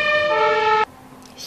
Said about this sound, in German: Hier fährt gerade Tatütata vorbei.